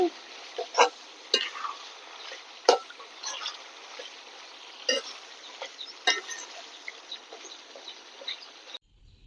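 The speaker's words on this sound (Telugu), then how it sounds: "మసాలా పౌడర్ వేసుకున్న తర్వాత ఇంకా కాసేపు బాగా ఫ్రై చేసుకోవాలి" Country chicken frying in hot oil with masala powder, a steady close sizzle and crackle with frequent sharp spatters and pops, ending abruptly near the close.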